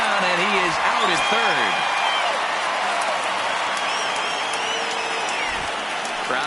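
Stadium crowd in MLB The Show 19 during a Yankees vs. Orioles game, a sustained loud roar of cheering that rises for a 3-2 count, with a play-by-play commentator talking over it.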